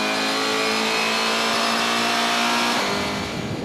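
GTC race cars accelerating hard on the East London circuit in South Africa, a loud, dense blend of several engines revving and climbing in pitch together, with no speech.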